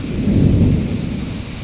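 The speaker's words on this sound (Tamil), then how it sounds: "இடி சவுண்டு முழங்கிக்கிட்டு இருக்கு" Deep thunder rumbles during an approaching rainstorm, a brief low roll that swells and then fades slightly. It sounds fairly distant, over a faint wash of wind, with no speech.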